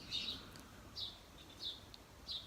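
Birds chirp in a garden, four short high tweets spaced about a second apart, faint and distant over quiet outdoor background.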